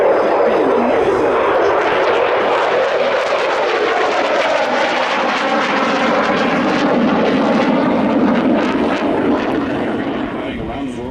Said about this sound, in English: From your right, the F-16 Falcon and the knife edge.